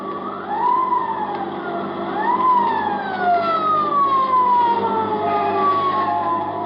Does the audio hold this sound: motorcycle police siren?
yes